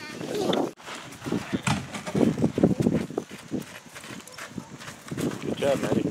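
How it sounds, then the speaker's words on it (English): A small pony's hooves clip-clop at a walking pace while a child rides, sounding close by under frequent chatter from adults and children. "Look at the little pony, Lucas. He's just your size."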